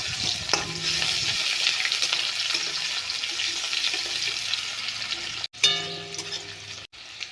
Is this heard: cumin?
yes